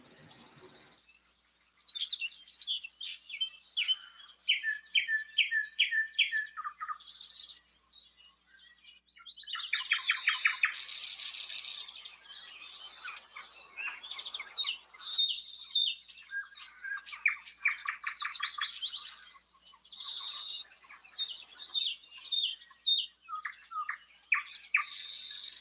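Birds chirp and squawk on a cool, cloudy Saturday morning, a busy mix of repeated high trills, sharp calls and quick twittering phrases going on almost without pause, fairly close and clear with no voices.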